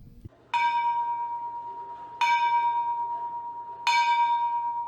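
A large bronze mission bell cast in 1719 rings three times at slow, even intervals, each strike ringing out clearly and sustaining into a long, humming decay.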